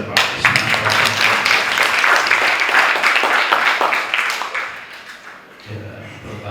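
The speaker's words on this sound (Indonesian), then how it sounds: "Sebelumnya tepuk tangan dulu buat Pak Ismanto." Audience applause at a ketoprak training event held by a Gunungkidul culture office, dense loud clapping for about five seconds before fading, with a voice coming in at the end.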